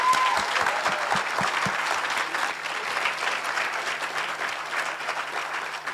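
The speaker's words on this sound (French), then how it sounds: "Applaudissements, s'il vous plaît." Crowd applause greeting the official opening of a live-streamed ceremony, a few sharp individual claps at first swelling into sustained, fairly distant clapping from a large audience.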